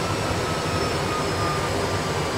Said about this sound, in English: And the aircraft made a perfect touchdown, and it's actually keeping itself on the runway.